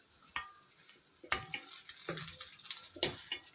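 A wrapped fish parcel set down on a preheated dosa griddle gives a soft sizzle broken by a few sharp knocks and clatters, close by, with no talking.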